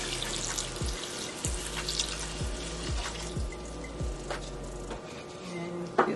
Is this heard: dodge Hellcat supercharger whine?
no